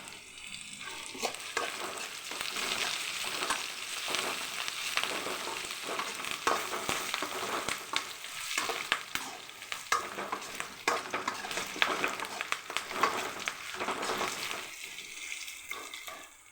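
Curry leaves sizzle and crackle in hot oil while being stirred for a carrot, beetroot and chow chow kootu, a steady frying hiss with repeated scraping stir strokes, close and without talk.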